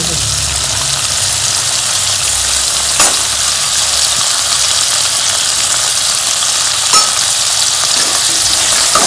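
Onions, tomatoes and potatoes fry in a pan with a loud, continuous close-up sizzle and hiss, with a couple of brief stirring knocks.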